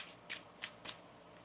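Tarot cards being shuffled by hand: three or four crisp riffling bursts in a quiet room, close and fairly soft, with no talking.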